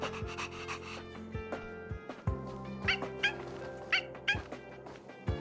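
A dog barks in the Honkai: Star Rail video game, giving a series of sharp, quick barks and yips in irregular bursts, fairly quiet, over a sustained musical background with no speech.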